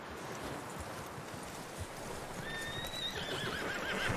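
A horse whinnies in Red Dead Redemption 2, a high wavering neigh rising partway through over a steady bed of hoof clip-clop and outdoor ambience.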